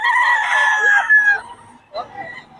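A rooster crows loudly and close at a Philippine gamefowl farm, one long strained call lasting over a second, followed by brief clucks and bird calls among other chickens.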